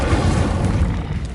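Incendio fire spell cast in the Hogwarts Legacy video game: a loud, rumbling fiery whoosh with heavy low boom, sustained and dense without pause, no speech.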